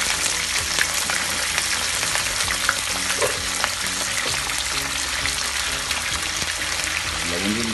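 Flat beans fry in hot sesame oil, giving a steady, dense sizzle that fills the whole stretch, with faint stirring and a light watery crackle underneath.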